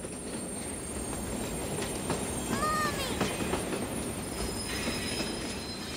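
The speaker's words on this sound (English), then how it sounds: "as he watched the train getting closer, he began to feel a little scared." A cartoon train draws closer with a low, steady rumble and a high metallic wheel squeal rising briefly in the middle, while a voice cries out.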